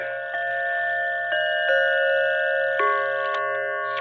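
A Seth Thomas 5-bell Sonora clock chimes, its bells struck in a slow sequence of bright, sustained tones that overlap and ring on with a slight twang, close and clear with no talking.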